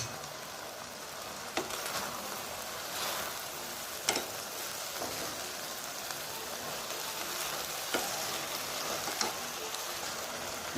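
Prawns sauté in a pan for a drumstick curry, giving a steady, soft sizzling hiss close by, broken by a few sharp pops and spatters.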